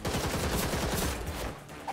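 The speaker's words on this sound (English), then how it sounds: "I'm getting tired of this guy shooting me" Dense, rapid gunfire from the video game Gotham Knights, loud and continuous in a fast rattling stream, easing off toward the end.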